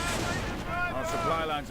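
Gunfire aimed at a half-track in a World War II strategy game, a short rumbling burst of shots and blasts over battle noise.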